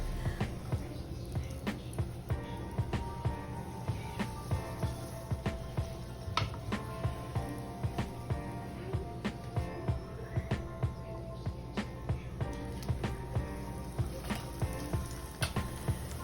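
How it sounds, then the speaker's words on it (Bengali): Pea-stuffed kachuri dough balls frying in hot oil, a soft steady crackle and bubbling with frequent small pops and utensil ticks repeating throughout, fairly quiet and without talk. "এবার এর মধ্যে একটা একটা করে লেচিগুলো ছাড়ছি আর হালকা হাতে উপরে তেল দিয়ে দিচ্ছি"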